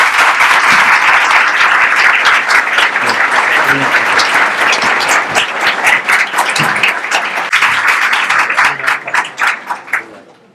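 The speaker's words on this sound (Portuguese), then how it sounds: "uma salva de palmas para o nosso palestrante" Sustained audience applause for a guest speaker at an evening journalism program event, dense and steady clapping that fills the room before tapering off near the end.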